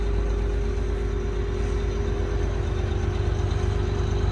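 A large farm machine engine, similar to a Claas Xerion tractor's, roars steadily from inside the cab, a constant loud low drone with a steady hum throughout and no talk.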